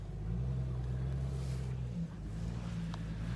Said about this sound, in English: We got the Jeepers going through here.